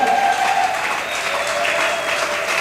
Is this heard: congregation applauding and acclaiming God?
yes